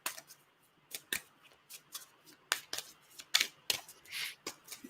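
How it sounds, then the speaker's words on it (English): Game cards are shuffled by hand at a tabletop, giving a string of quick, crisp riffles and snaps that come in uneven bursts, close and fairly quiet. "So I'm gonna shuffle these in."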